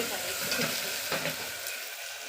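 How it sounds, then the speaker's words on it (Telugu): Masala for gongura mutton biryani fries on a wood-fired stove while being stirred, making a dense steady sizzle with a few scraping strokes, close and continuous. "ఎప్పుడు మసాలా అనేది బాగా వేగాలి"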